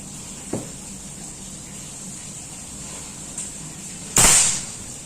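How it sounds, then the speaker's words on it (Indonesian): Near the end, a Predator Mini Bullpup air rifle with a 40 cm dural body at 2700 psi lets off a single loud, close shot. Two faint knocks come first, over a steady background hum. "Tembakan ketiga."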